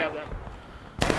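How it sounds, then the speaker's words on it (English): Artillery fire in the Civil War game War of Rights: a single sharp, loud cannon-like blast near the end, following a stretch of low rumble and faint game ambience. "Good shots by artillery."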